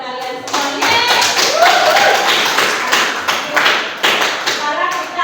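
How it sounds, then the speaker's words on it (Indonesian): Classroom clapping at SMAN 1 Tengaran, a burst of many hands that starts after a brief pause and continues in uneven waves, close and loud. "Tepuk tangan buat kalian semuanya."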